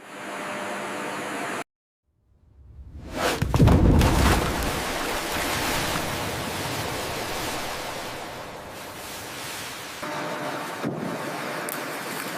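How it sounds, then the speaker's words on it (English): Paddles churn cassava roots inside a stainless steel washing machine in a cassava processing factory, loosening mud with a steady, loud, dense wash of sloshing water and mechanical noise that fills the clip after a brief silent gap. "Paddles agitate the roots to loosen stubborn mud."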